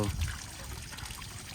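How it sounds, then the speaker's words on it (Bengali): Hot water trickles and splashes out from the bottom of a Sifang power tiller engine as cold water is poured in, a soft, steady wet dribble close by. "ইঞ্জিনের ভিতরে যখন ঠান্ডা পানি দেওয়া হয় গরম পানিগুলো নিচ দিয়ে বের হয়ে যায়"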